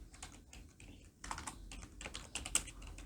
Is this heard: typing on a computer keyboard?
yes